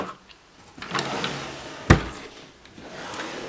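A makeup storage drawer slides open with a soft rubbing glide and a sharp knock near the middle, close by and alone, with faint rustling around it.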